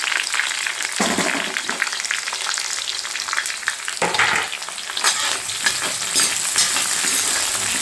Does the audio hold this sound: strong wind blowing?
no